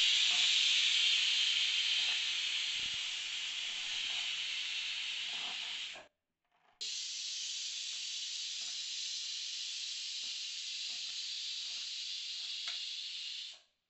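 A pressure cooker with village chicken inside vents steam in a loud sustained hiss, cutting off briefly mid-way and then resuming steadily until it stops abruptly.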